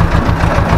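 Ursus C330M farm tractor engine idling at low revs, a steady low rhythmic putter throughout, close and fairly loud.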